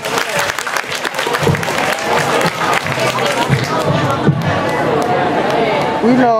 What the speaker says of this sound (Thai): ขอเสียงปรบมือดังๆด้วยครับ